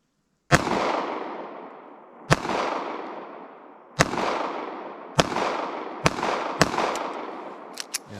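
A pocket pistol fires Fiocchi .380 ACP rounds, with five or six sharp, loud gunshots spaced about a second or two apart, each leaving a short echoing decay, and a few fainter clicks at the end.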